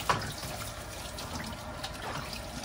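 Tap water runs in a steady, quiet trickle into a sink while a child's toy doll is washed at home, close and soft, with no talk over it.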